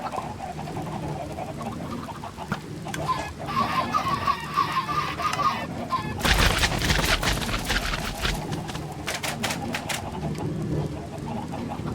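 Chickens in a Minecraft farm cluck and squawk continuously, a dense honking flock sound that swells louder midway, with brief bursts of clicking game noise.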